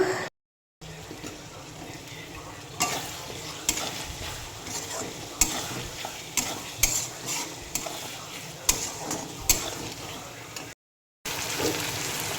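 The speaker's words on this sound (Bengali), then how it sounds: "এই যে এক পাশে মাংস খাসির মাংস কষাতে দিয়েছি আর আর এই যে এক পাশে চিকেন দিয়েছি" Mutton and chicken brown side by side in one pan, a loud, continuous sizzle broken by repeated scraping and stirring clatters, with a short silent gap near each end.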